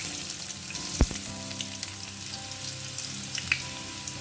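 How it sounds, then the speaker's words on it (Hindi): Chopped onion hits hot oil in a pan and sizzles in a steady, close crackling hiss, with a couple of sharp clinks from a utensil against the pan. "तो अब तेल जो है ना गर्म हुआ है, तो अब इसमें डालते हैं प्याज"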